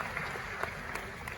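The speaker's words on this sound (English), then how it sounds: "Another round of applause for her." An audience claps for a speaker at a public event on tax revenue, a faint, steady patter of applause with a few sharper claps and a murmur of crowd voices.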